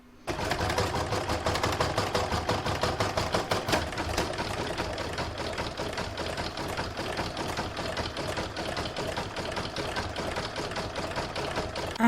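Up close, a sewing machine runs a dense, steady satin stitch around the border of a fabric Christmas star, its rapid needle chatter continuing without a break.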